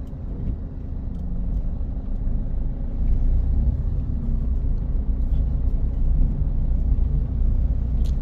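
Toyota Etios diesel car after decarbonization, heard from inside as a steady low engine rumble that swells slightly as it accelerates, constant and without speech.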